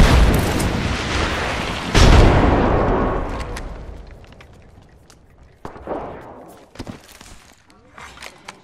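A frag grenade goes off in Apex Legends with a loud, deep boom and a long rumbling decay. Scattered thuds, footsteps and a few sharp clicks follow.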